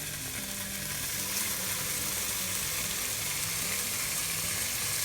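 Bacon sizzles steadily in a pan as it starts cooking, with a dense, continuous crackle and hiss that stays loud and even throughout, no talking over it.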